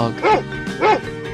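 Two short, yappy bow-wow barks from a cartoon dog in a 3D animal video game, loud and close, with a brief pause between them.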